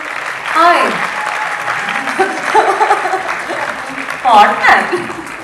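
An audience at a film success meet for Chatha Pacha, with a film star present, breaks into loud applause: a broad wash of clapping that swells near the end, with a voice talking over it.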